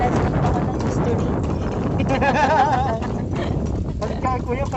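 Horse hooves clip-clop on the streets of Intramuros during a walking tour, a steady clatter under wind noise and people talking nearby.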